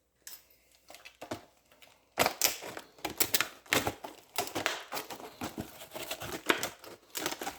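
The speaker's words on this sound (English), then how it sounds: "Tin snips work great to get these packages open, by the way." Tin snips chop into a plastic wire wheel package with quick crisp clicks and crinkling cuts. A few faint snips come first, then a dense irregular run of close, sharp cuts continues to the end.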